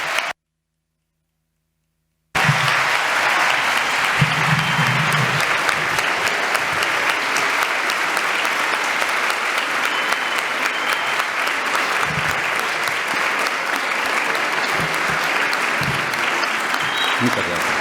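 An audience applauds a professor's arrival at a Spanish-language talk. After a short silent gap, loud, sustained clapping from a large crowd carries steadily to the end, with scattered louder claps.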